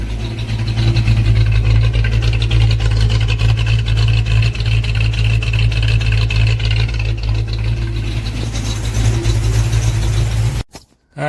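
A 1984 Ford Mustang engine fitted with a Holley 600 cfm Street Warrior carburetor idles at a steady low rumble around 800 RPM, loud and continuous, before cutting off abruptly near the end.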